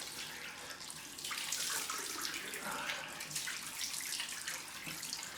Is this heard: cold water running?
yes